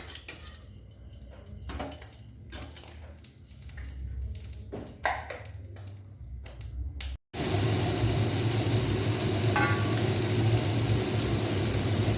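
Mustard oil is poured into a pan and begins heating, with a steady broad hiss filling the second half after quieter pouring and handling sounds, close by with no talk.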